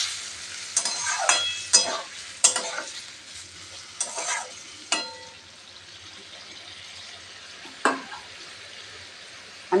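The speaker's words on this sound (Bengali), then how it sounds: "এবারে আমি করে রাখা গরম জল দিয়ে দিচ্ছি।" Stirring and scraping in a pan of frying potato, cauliflower and prawn curry after hot water goes in, with a low sizzle and several sharp metallic clinks of a spoon against the pan at irregular intervals.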